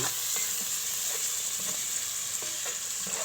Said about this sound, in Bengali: জিরার গোটা এবং জিরা গুঁড়ো তারপর হলুদ লবণ সব কিছু দিয়ে এখন এটা নাড়াচাড়া করছি